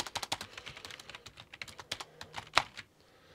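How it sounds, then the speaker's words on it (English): Rapid typing on a Cherry XTRFY K5V2 Compact mechanical keyboard, a dense run of close, crisp key clicks with one louder strike near the end before the keys fall quiet. "And now over to the Cherry keyboard."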